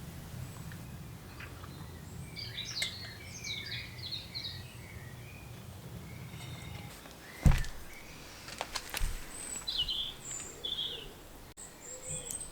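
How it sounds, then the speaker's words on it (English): Birds sing outdoors in the morning: scattered bright chirps and short trills from a few directions, moderately distant, over a soft low rumble, with one dull thump partway through; no talking. "listen to the birds, and just start my day right"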